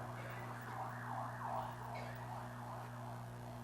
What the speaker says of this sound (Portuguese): Já está passando aí a ambulância.